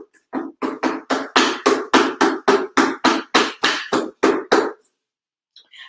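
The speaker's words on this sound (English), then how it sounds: "And in tapping the bottom, what's happening is all of those loose balls are rolling around" Firm taps on the bottom of a piece coated in wet Powertex set loose balls rolling. About fourteen evenly spaced, sharp knocks come in quick succession, then quiet follows.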